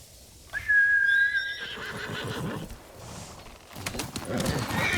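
In the video game Ghost of Tsushima, a horse neighs sharply, followed by hoofbeats clopping along at a quick pace, close and clear.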